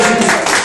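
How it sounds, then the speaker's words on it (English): A live audience at a tweetup event cheers and applauds loudly for Andy Murray's Wimbledon win, a dense continuous wash of clapping and crowd noise. "give us a cheer for that, wasn't that fantastic?"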